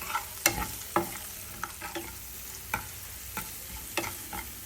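Onions, chili, cumin, salt, turmeric and sugar frying in oil in a pan, a quiet sizzle punctuated by sharp, irregular taps and scrapes of stirring, close with no talk.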